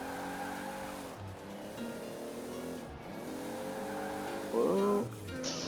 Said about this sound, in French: On entend le turbo.